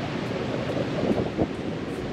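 Ocean surf on a beach in Camarines Sur, a steady broadband wash of waves with a couple of swelling surges, mixed with some wind noise and heard alone without talk.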